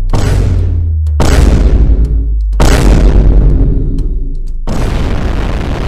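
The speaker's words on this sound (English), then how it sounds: "Legalized nuclear bombs." In a Roblox meme, a nuclear bomb goes off as a series of loud, booming blasts, four heavy bursts each decaying into a rumble with sudden cuts between them.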